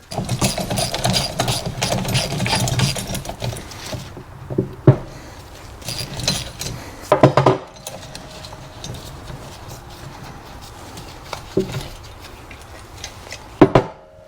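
A flywheel nut is worked loose on a vintage Wizard outboard motor that sat for 20 years, giving rapid metallic ratcheting and clicking in bursts, with sharp clanks and tool knocks between quieter pauses.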